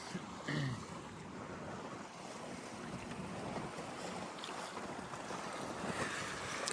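A sailboat under autopilot on a calm sea with light-air sails rigged, giving a steady wash of water and wind noise with faint creaks and splashes, no talking.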